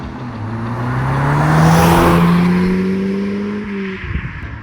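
An Audi TTS drives off and accelerates, its engine note rising steadily through the gears before a shift and easing off, close and fairly loud with no talk.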